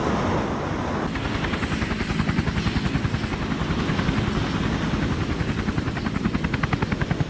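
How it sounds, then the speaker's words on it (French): Helicopter hovering low over a ship at sea during a rescue, its rotor chopping in a loud, steady rhythmic beat with a continuous turbine roar, close and unbroken throughout. "L'hélicoptère peut s'écarter des mâts et il suffit au plongeur de tirer vers lui le nouvel arrivant."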